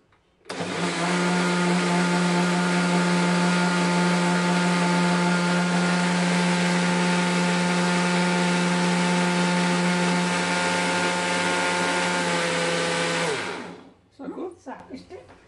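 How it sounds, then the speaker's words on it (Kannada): A kitchen mixer grinder blends rava batter for kurudagi, a loud, steady whirring drone running about thirteen seconds before cutting off, followed by a few brief sounds and a voice. "ಈಗ ಮಿಕ್ಸಿ ಮಾಡ್ತೀನಿ."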